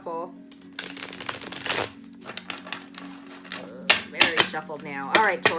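A deck of tarot cards gets a brisk shuffle, quick papery riffles and taps up close, with a person talking between and over the bursts.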